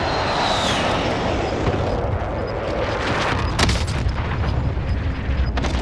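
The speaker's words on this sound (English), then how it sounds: "Be advised, friendly precision airstrike inbound." Precision airstrike in Call of Duty: Modern Warfare arrives as a deep rolling boom and thundering rumble with jet roar, followed by a few sharp cracks of gunfire, loud and sustained throughout.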